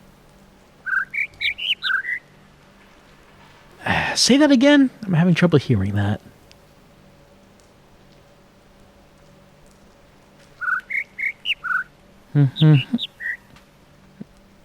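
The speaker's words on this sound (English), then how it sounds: "There were two chirps." Short bird chirps from the video game The Witness, two brief bursts of rapid high tweets separated by a stretch of talking, with a voice speaking in between.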